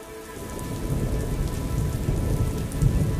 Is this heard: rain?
yes